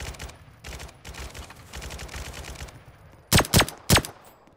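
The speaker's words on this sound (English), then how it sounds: "Who's shooting at me?" Gunfire in the Roblox Jailbreak video game: a background rattle of rapid shots gives way to three loud, sharp nearby bursts in quick succession toward the end, with no voices.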